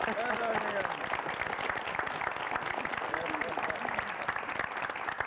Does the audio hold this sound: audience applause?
yes